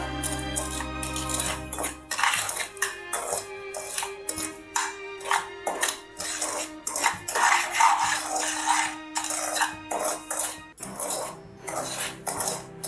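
Sugar stirred continuously in a pan over medium flame for a Christmas plum cake: repeated rhythmic scraping and clinking of a utensil against metal, steady and close, with a faint hum underneath.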